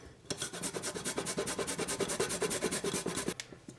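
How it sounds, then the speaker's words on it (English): Peeled ginger rubbed briskly over a kitchen grater, giving a fast, even run of rasping strokes for about three seconds before stopping, close up and clear with nobody talking. "we're gonna peel the ginger and then grate it."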